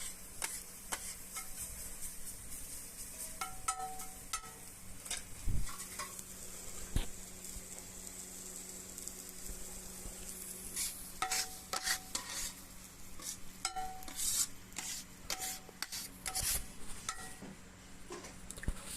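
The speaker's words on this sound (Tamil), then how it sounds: "இப்போ அதை கிண்டி விட்டுட்டு லேசாக புதினா லேசாக வதங்கினதுக்கப்புறம்" Mint and onions fry in a pan for a mint egg poriyal, with a soft steady sizzle and repeated light scrapes and taps from a spoon stirring against the pan. The sound is quiet and close.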